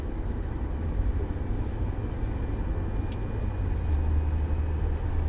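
A car driving along a rough road in Virginia, heard from inside as a steady, loud low engine and road rumble with constant tire noise throughout.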